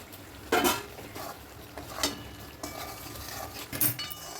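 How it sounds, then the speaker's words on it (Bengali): Pointed gourd (potol) is stirred into fried masala in a pan: a spoon scrapes and clinks against the metal pan in irregular strokes over a soft sizzle, with no talking. "পটলগুলো দিয়ে আমি একটু নাড়াচাড়া করে নিয়েছি"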